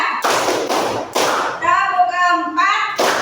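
Children in a classroom clap together in a counting clap game, with short bursts of group clapping alternating with their sung, chanted counting, ending on another clap burst.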